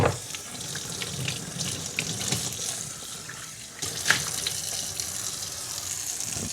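A cast iron pan rinsed under a running kitchen tap, with a steady close splash of water over the metal and occasional clunks and shifts as the pan is turned in the sink.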